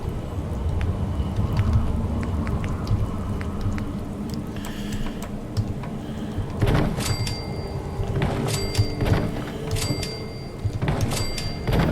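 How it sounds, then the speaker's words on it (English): Rain falls in a storm in Fallout 4, a steady broadband patter with low rumbles of thunder and scattered sharper drop-like ticks across the whole stretch. "And it's raining"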